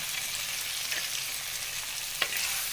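Drumsticks frying with spice powders in a clay pot, a steady close sizzle throughout with a couple of faint stirring scrapes, one sharper tap near the end.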